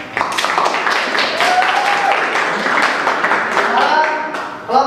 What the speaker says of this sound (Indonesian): Bagus sekali, tepuk tangan lagi.